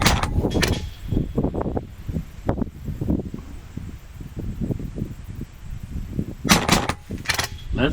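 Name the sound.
gun firing double-tap shots in full auto mode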